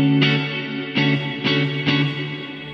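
An electric guitar plays four strummed chords through Baby Audio Crystalline algorithmic reverb. Each strike has a bright attack that blooms into a shimmering wash before the next hit, with no talking.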